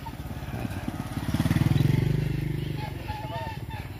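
A motorcycle passes along a hillside road on a cycling route, its engine swelling to a loud, close peak mid-pass and then fading off, with people talking over it.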